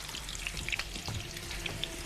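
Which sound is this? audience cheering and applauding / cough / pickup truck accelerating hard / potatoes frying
potatoes frying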